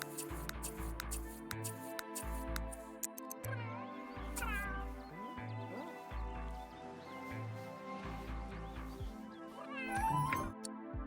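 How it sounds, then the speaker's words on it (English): A cat in The Sims 3 video game meows repeatedly while being brushed, close and clear, over a steady musical background with light ticking sounds. "the brushing of Fred the cat"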